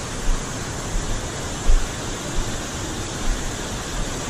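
El Rosario waterfall near Metapán, El Salvador, a steady, broad rushing roar of falling water heard close up, constant and unbroken with faint low thumps, and no voices.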